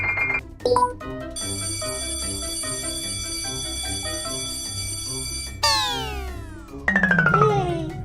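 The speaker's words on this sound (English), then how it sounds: "Outside, Daddy Pig presses the doorbell again." A cartoon doorbell chimes over a bright, busy music bed, with a short electronic ring early and a falling bell-like tone near the end.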